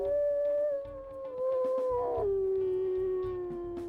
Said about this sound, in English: And we'll listen to her howls as well.